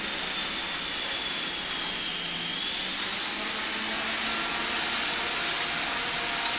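Small unmanned helicopter on a ground test, its rotor spinning at steady high speed with a whining hum that rises gradually as collective is added, continuous and close.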